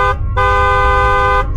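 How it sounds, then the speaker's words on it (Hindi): A bus horn honks loudly: a short blast, a brief gap, then a longer sustained blast over a low rumbling background, with no talking. "की हॉर्न की आवाज आती है।"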